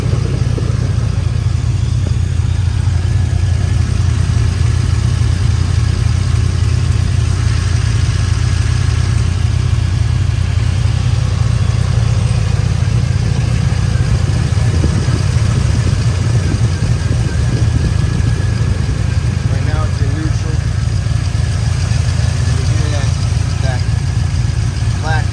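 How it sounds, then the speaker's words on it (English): A 2000 Chevrolet Silverado V8 with an aftermarket camshaft idles with a loud, choppy low rumble, a light rhythmic rocker arm lifter clacking riding on top, while someone talks over the engine. "Got a little rocker arm lifter clacking."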